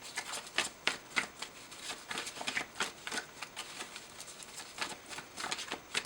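Tarot cards being shuffled up close, a steady run of crisp riffling bursts repeating every half second or so at moderate level, with no voices.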